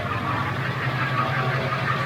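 Up close, a straight-piped 7.3L Power Stroke diesel van engine idles with a deep, steady rumble and a faint rhythmic knock.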